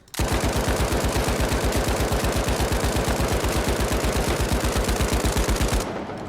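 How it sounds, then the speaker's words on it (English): A Lewis gun machine gun in the video game THE FINALS fires one long, sustained burst of rapid, evenly spaced shots, loud and close, lasting nearly six seconds before cutting off. "we're going to start with the Lewis gun"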